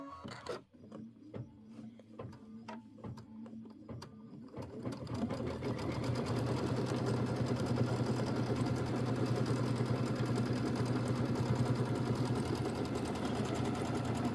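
An embroidery machine stitches a tack-down line on fabric held in a hoop. After a few sharp clicks, it settles into a steady, close, fast mechanical whir and rattle that holds level, with no talking.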